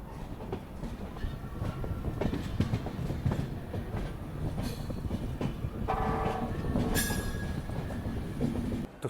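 Uttar Sampark Kranti passenger train pulling into Udhampur railway station in the early morning, wheels clattering steadily over the rails with a brief squeal of brakes near the end, heard close and continuous without any talk.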